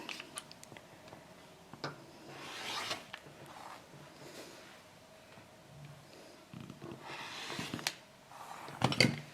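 Rasping cuts as fabric edges of a half-square-triangle quilt block are trimmed, several short scraping strokes spaced out over quiet room tone, close and moderately soft.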